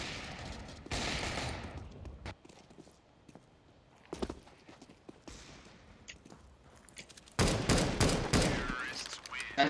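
Bursts of gunfire from CS:GO competitive play, several loud rapid volleys separated by quieter stretches with scattered clicks and footsteps-like taps, with voices talking briefly in between.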